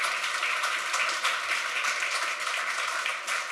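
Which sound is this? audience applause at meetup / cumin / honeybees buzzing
audience applause at meetup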